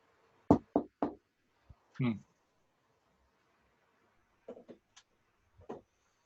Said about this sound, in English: Yeah, knocking sound.